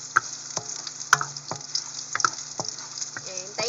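Crushed, sliced ginger frying in a pot for shrimp sinigang, a close sizzle broken by sharp utensil clicks and stirring knocks at irregular moments, with no talk.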